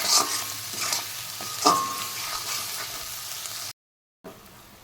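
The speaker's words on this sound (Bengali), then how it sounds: "আরও আমি দু মিনিট ভেজে নেব মশলা" Spice paste for a Bengali fish paturi fries in a pan with a steady close sizzle and scraping stirs, a sharper clink near the middle, then a brief dropout to silence before the sizzle returns. No one speaks.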